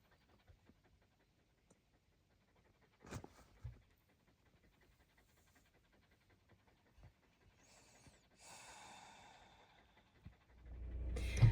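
An excited dog pants in quiet woods, with faint breathy bursts scattered across a mostly still background and a louder rustle near the end.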